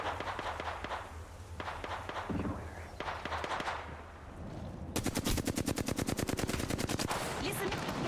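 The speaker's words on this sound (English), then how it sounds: "Listen, getting shot at." Apex Legends gunfire: movement and scattered shots give way to a loud, rapid automatic burst of evenly spaced reports that runs to the end, close and dominant.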